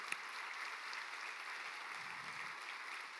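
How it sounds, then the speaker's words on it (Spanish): Faint, distant applause from a church congregation at a worship conference, a soft, even patter of many hands with no speech over it. "¿Por qué no le damos un aplauso a Dios fuerte y poderoso?"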